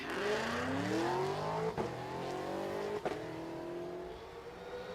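A 1979 Mustang pace car, Fox body with a naturally aspirated 2.3-liter four-cylinder, drag racing: a loud, close engine howls as it accelerates through rising gears, with two sharp breaks at the shifts.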